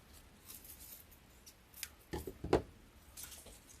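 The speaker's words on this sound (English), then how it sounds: "I think this one needs to be cut a little bit." Scissors snip through greenery being trimmed for a lavender Easter bunny grapevine wreath, a couple of quick close cuts standing out against a quiet room.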